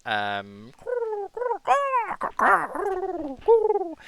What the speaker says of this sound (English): as you're looking up, you can hear bird chatter